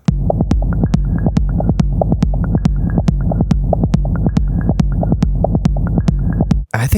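Layered techno groove from a Roland SP-404 MK2 sampler, S-1 synth and TR-6s drum machine: a deep throbbing rumble under a steady, evenly spaced kick pulse, loud and continuous, cutting off abruptly near the end.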